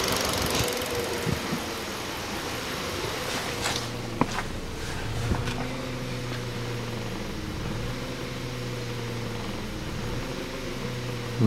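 A 2012 Hyundai Solaris engine idles with a misfire and unstable revs, giving a close, steady humming drone with an uneven, shaky pulse and a few sharp mechanical clicks and knocks.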